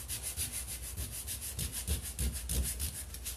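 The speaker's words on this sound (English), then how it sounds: "So I'm holding the sandpaper and I'm just putting the pressure where I want the paint to come off." Sandpaper scrubbing paint off painted furniture by hand, a steady run of quick, even rubbing strokes close up, with no voices.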